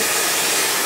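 A hair dryer blows a steady, loud, unbroken whoosh of hot air onto an old lamp part being heated, with no talking over it.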